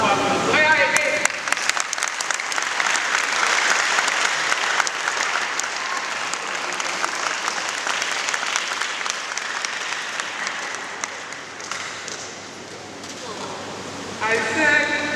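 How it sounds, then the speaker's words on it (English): A crowd at a campus student orientation applauds loudly and steadily for over ten seconds, briefly easing before swelling again at the end, with voices mixed into the clapping. "Give it a good round of applause."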